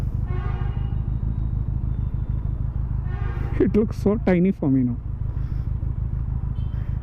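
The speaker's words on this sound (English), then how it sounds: "I'll stop here and give you guys an exhaust note." Benelli TNT 300 motorcycle idling in Bangalore, a steady low, throbbing exhaust rumble throughout, with a rider speaking briefly over it midway.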